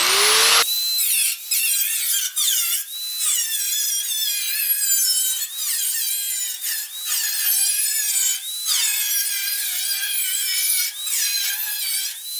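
A power tool slices spot-welded firewall metal on a GTO restomod, giving a loud, high, shrill cutting whine that runs on and on with brief dips as the blade bites and eases.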